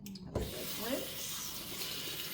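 Kitchen tap water runs steadily into a sink for rinsing, a continuous close hiss and splash that starts suddenly after a brief thump.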